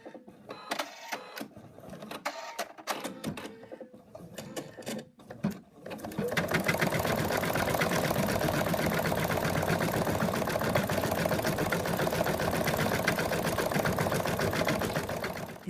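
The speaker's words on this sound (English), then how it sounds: "It's finished stitching out the little heart, and now we're going to do the lettering." An embroidery machine stitches out a small heart design, with loud, steady, rapid mechanical stitching from about six seconds onward after a quieter stretch of scattered clicks and handling.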